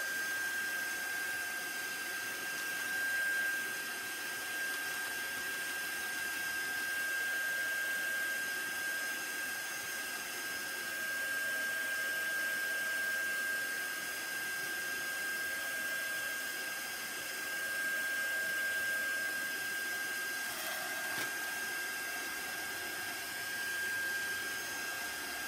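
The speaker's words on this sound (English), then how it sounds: "now I'm going to dry that because the next color I put on, I don't want it to be muddy." A heat tool blows steadily while drying distress ink on paper, giving a constant close whirring hiss with a thin high whine that holds for the whole stretch, with no one talking.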